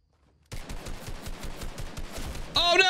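Rapid gunfire from a weapon in the video game Fortnite, a dense rattling burst of shots that runs steadily for over two seconds after a moment of silence, loud and close, ending with a brighter electronic effect.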